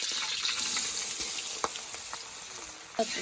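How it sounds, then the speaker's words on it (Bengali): Rice fries in a pan with cumin seeds and bay leaf as the base for biryani. A soft, even sizzle hisses close by throughout, with a few light clicks from stirring, and nobody speaks. "চালগুলো ভালো করে ভেজে নেবো"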